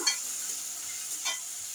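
Prawns frying in a pan and being stirred, a steady high sizzle with a couple of soft scraping stirs, close and moderately loud.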